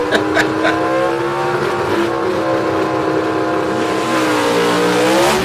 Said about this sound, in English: David, this old car of this Nash Rambler of Dwight